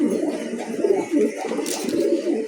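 Racer pigeons coo in low, throaty, rolling murmurs, several birds overlapping continuously at close range, with a faint brief voice in the background.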